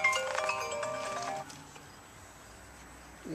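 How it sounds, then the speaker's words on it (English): A mobile phone rings during a used-car walkaround, giving a short, bright tonal melody for about a second and a half that then cuts off, leaving quiet room noise. "Pardon my phone ringing."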